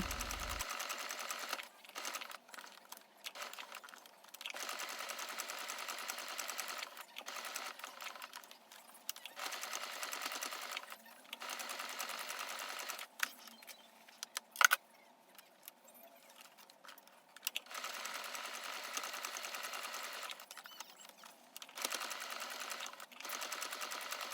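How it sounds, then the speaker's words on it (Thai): A sewing machine stitches cloth for a small coin purse in steady bursts of rapid mechanical clatter, stopping and starting several times, close and clear with no talk. "เราจะเย็บทีละข้างนะคะ"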